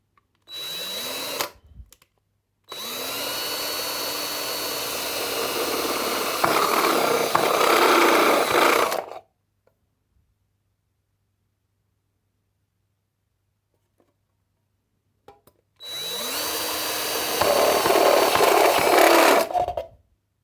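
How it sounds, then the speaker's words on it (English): A Parkside HSS step drill bit bores a hole in two long bursts of steady whining drilling, separated by a long silent pause, loud and close. "And let's drill another one."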